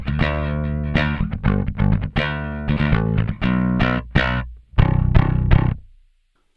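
An electric guitar run through a distortion effect with a tight low end and bright top plays choppy, loud chords and riffs, ending in silence.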